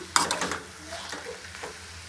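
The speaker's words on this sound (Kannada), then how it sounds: "ಫ್ಲೇಮ್ ಜಾಸ್ತಿ ಮಾಡಿ ಫ್ರೈ ಮಾಡ್ಕೋತಾ ಇದ್ದೀನಿ ನಾನು" Boiled eggs fry in a pan over a high flame, a soft steady sizzle with a few sharp stirring scrapes near the start, then quieter crackling.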